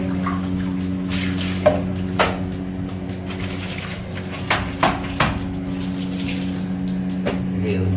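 Clothes are washed by hand with water, giving a few scattered slaps and splashes against a steady low hum.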